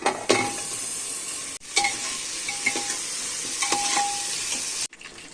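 Mutton trotters fry with ginger-garlic paste and turmeric over sautéed onions, a loud crackling sizzle broken by scraping stirs and a few metallic clinks, with brief pauses where the sizzle drops out.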